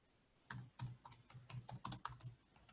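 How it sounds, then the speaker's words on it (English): Rapid keystrokes on a computer keyboard while entering a search in a map gazetteer website, close and crisp, in irregular bursts of clicks with short pauses and no talking. "and type in Ancrum Cottage"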